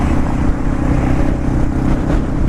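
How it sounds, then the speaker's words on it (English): Steady loud wind rumble and engine drone on a light motorcycle riding at interstate speed, low buffeting noise filling the whole stretch without speech. "start getting a little wind buffeting."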